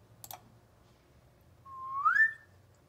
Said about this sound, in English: It's just a quick little 3-second whistle.